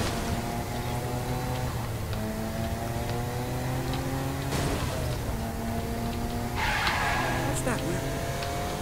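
A speeding car in Saints Row 4 roars past with engine whine and tire squeal amid game background music, a sharper skid burst near the end, while someone talks over it.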